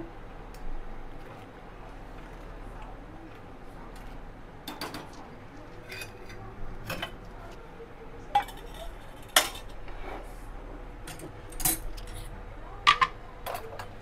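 Egg masala with garam masala and salt being stirred in an iron kadai, with scattered metallic clinks and scrapes of a spoon against the pan over a low steady background hum, close by, no one speaking.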